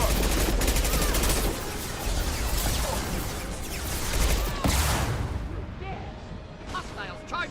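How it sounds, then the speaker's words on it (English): Dense gunfire and a concussive shot in Mass Effect 2 on Insanity difficulty, loud continuous bursts with sharp cracks and a heavy impact near the middle, over battle noise with voices. "Firing concussive shot!"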